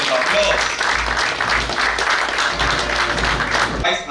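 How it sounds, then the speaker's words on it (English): An audience applauds at a Nigerian Naval War College graduation ceremony for its warfare course, with dense, steady clapping that fills the hall for about four seconds before tapering off at the end. "Please may we give him a round of applause."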